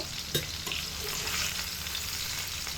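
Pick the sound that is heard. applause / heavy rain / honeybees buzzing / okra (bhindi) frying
okra (bhindi) frying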